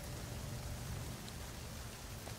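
Steady drizzling rain as weather in the No Man's Sky video game, a continuous, even hiss with a low rumbling undertone, loud and unbroken with no voices.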